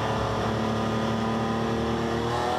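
Race cars in the NPCC Sasol RaceDay event rev and pull away at the race start, a dense layered engine roar under steady commentary.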